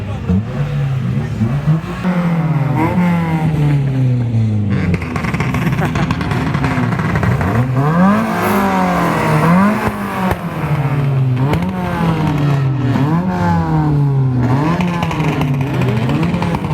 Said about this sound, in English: everyone's revving like Hondas do in the natural habitat